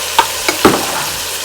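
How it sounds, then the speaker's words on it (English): Mutton sizzles steadily in a pan with spices for pulao, with a few sharp clinks and scrapes of a utensil stirring near the start over the constant close frying hiss. "this is after 5 minutes of frying"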